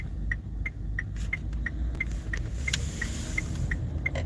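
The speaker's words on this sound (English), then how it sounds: "That truck behind me roaring" A heavy truck roars close behind a person outdoors, a steady low engine rumble running throughout with a faint, regular ticking rattle layered above it.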